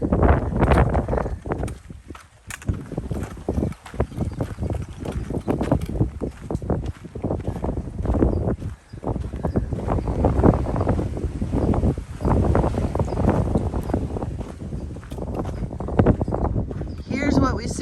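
Strong, gusty wind roars across the microphone on a mountain trail, buffeting continuously in uneven bursts with a low rumbling texture throughout.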